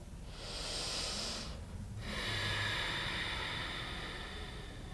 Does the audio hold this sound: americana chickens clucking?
no